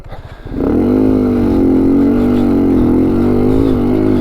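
An off-road vehicle on bald tires climbs a muddy hill through the bush, its engine droning loud and close at sustained high revs as the wheels spin, with no talk over it.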